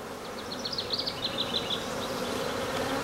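Honeybees buzz close over a brood frame of larvae and pupae, a steady hum with several brief, higher whirring passes as individual bees fly near.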